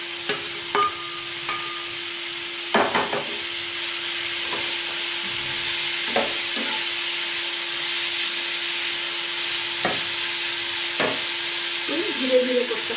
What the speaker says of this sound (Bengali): আমি এবার দিয়ে দিচ্ছি পেঁপে। পেঁপেটা একটু সুন্দর করে ভাজতে হবে,